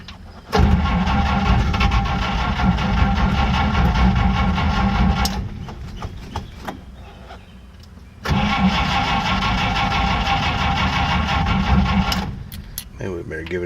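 A 1950 Oldsmobile engine cranks and catches on a cold start after a shot of gas, running roughly and loudly, faltering midway, then firing up again before cutting out near the end.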